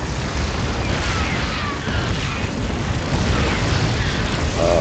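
Dense, continuous rumbling boom and blast noise from massed siege tanks firing and explosions in a StarCraft Terran-versus-Terran battle on a ramp, loud and sustained with no pauses.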